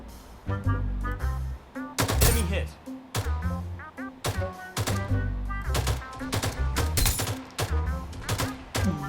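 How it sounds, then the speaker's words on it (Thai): Video game gunfire in rapid bursts of loud, close shots, clustered volleys repeating every second or so, with someone talking excitedly between and over them. "กูยิงทุกคนเลยตอนนี้"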